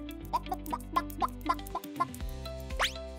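A cartoon hen clucks in a rhythmic series of short, bright bursts over a soft musical bed, ending with a quick rising whistle-like effect.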